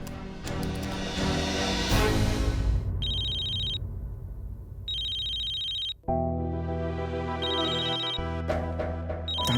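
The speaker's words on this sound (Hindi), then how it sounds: "तानी फोन क्यों नहीं उठा रही?" A phone ringtone rings unanswered at night, a bright electronic melody repeating in bursts with short gaps between them, loud and close, with no one speaking.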